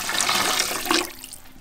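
Water gushes into a large pot of rice in a village kitchen, loud, rushing and continuous, then tapering off abruptly toward the end, heard on its own.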